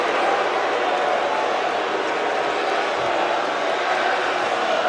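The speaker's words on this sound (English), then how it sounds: "And listen to this crowd here, not happy about it at all." Arena crowd in the WWE 2K wrestling video game, a dense, steady wall of crowd noise voicing displeasure, sustained for about five seconds with no clear single voice standing out.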